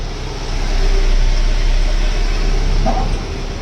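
A truck moving slowly into a parking spot, its engine a steady, close mid-range rumble that swells slightly and then settles, with no talk over it.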